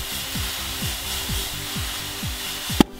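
A latex balloon sprayed with WD-40 bursts in one sharp, loud pop near the end, after a stretch of rhythmic rubbing and scraping.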